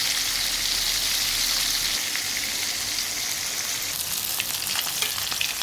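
Koi fish frying in a pan make a loud, continuous close sizzle, with brief scraping clicks from stirring toward the end and no speech.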